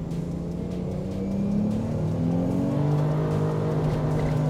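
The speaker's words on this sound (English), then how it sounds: "Oh, another wheel spin." A race car spinning its wheels at Donington circuit: the engine holds a loud, continuous rising whine as the revs climb, with no voices over it.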